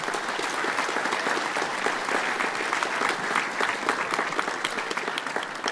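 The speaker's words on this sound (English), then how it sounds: "can I have one last big round of applause for all of our presenters today?" A conference audience applauds its presenters with loud, sustained clapping that fills the whole stretch at an even level, with no talking over it.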